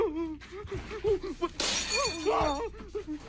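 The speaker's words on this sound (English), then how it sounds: "I just smashed the mirror." A mirror is smashed indoors, giving one sharp, loud shattering crash with glass fragments ringing for about a second midway through. People are talking before and after it.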